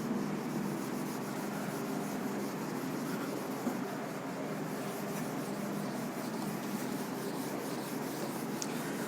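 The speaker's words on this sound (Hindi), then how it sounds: "चलो दोस्तों उस क्वेश्चन को यहाँ पे लिखते हैं पहले।" Chalk or marker scratching steadily on a board while a math question is written out, a faint continuous rubbing texture with no voices over it.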